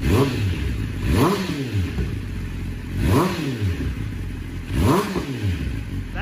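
A motorcycle engine blipped with the throttle, four rhythmic revs rising and falling roughly every second and a half, close and fairly loud over a steady idle rumble.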